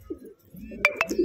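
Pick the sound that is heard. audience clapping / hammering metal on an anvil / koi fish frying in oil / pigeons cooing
pigeons cooing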